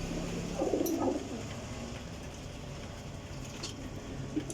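A female pigeon of a champion Jheth Wasakh breed gives a short, soft coo near the start, faint against quiet room ambience, followed by a couple of light rustles.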